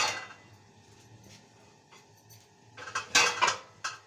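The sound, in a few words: old metal cooking pots being handled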